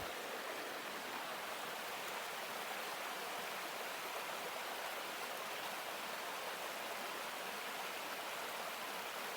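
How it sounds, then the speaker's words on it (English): A creek beside the Appalachian Trail flows in a steady, dense rush of water that stays even and close throughout, with no voices over it. "So I will go back over here to the creek"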